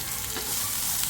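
Ground masala paste sizzling with half-cooked okra in a kadhai for bhindi masala, a steady close hiss of frying with no talk.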